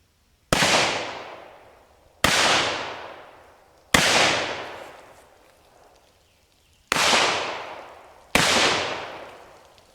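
Five sharp, loud gunshots from hand-loaded .38 caliber copper-plated bullets fired at about 7 yards. Each crack is spaced roughly two seconds apart and trails off in a short echoing decay, with no speech.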